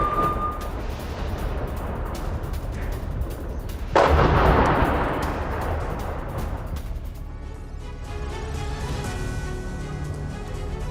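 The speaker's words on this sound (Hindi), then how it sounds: "गाजा में दहला देने वाला विध्वंस, बमबारी के बाद उठा धुएं का गुबार" Bombardment in the Gaza war: a continuous rumbling wash of distant blasts and artillery, then one heavier, closer boom that swells and slowly fades into a lingering roar.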